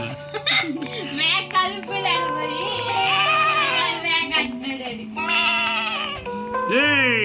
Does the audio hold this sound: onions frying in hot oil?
no